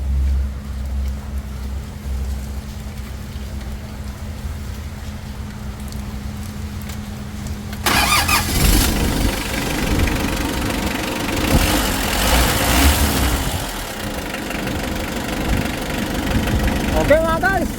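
An overhauled Mitsubishi 4D56 diesel engine cranks and fires at about eight seconds, then settles into a steady, close, rumbling idle with a broadband mechanical clatter.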